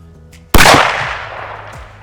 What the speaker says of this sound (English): So we'll shoot at 100 yards.